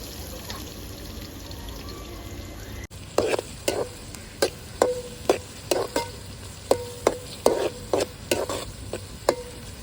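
Green chillies fry in a pan for a village-style goat boti curry, a steady sizzle broken by a regular rhythm of sharp stirring scrapes against the pan after a brief quieter start.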